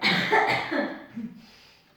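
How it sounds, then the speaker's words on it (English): A single rough cough up close, trailing off into quiet. "Got a tickly cough today."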